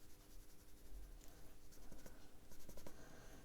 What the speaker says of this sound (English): I'm using just a black